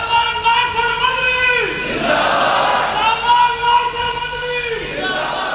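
A crowd raises a loud takbir chant at a wedding procession, voices swelling into a broad shout around the middle and falling back to sustained tonal calling, with steady crowd noise throughout.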